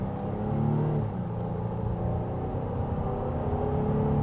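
Inside a 2024 Honda Ridgeline Trailsport accelerating at about one-third throttle, a steady low engine rumble and road drone build gently, with no one speaking.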